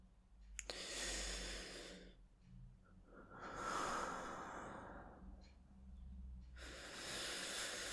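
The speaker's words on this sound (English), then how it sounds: "You want us to do some slow breathing?" Slow, deep breaths drawn close and quiet in an intimate ASMR-style setting, several long inhale and exhale cycles with pauses between, soft and breathy with no talking.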